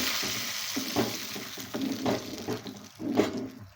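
Cashew nuts frying in a pan for a black kavuni rice sweet pongal, a close sizzle broken by repeated stirring scrapes roughly every half second.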